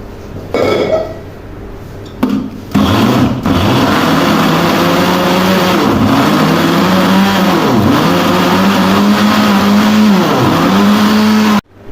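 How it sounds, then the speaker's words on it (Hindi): A loud electric blender blends onion, garlic and ginger for kebabs, running steadily after a brief stop-start, its motor pitch dipping and recovering repeatedly as it churns. "अब हम इसको ब्लेंड कर लेंगे।"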